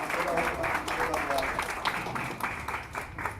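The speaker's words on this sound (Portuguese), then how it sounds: "as palmas podem glorificar e exaltar o nome do Senhor Jesus Cristo" A church congregation clapping hands in praise, a dense, steady rhythmic patter of many palms continuing throughout under a voice talking over it.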